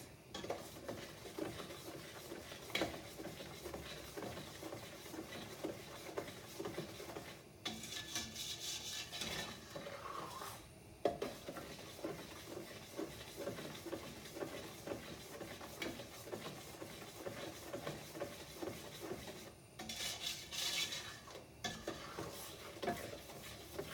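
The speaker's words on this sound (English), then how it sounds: "So we just stir away." Spoon steadily stirring a thick no-bake cookie mixture in a pot, with continuous close scraping and occasional metallic clinks against the pan throughout.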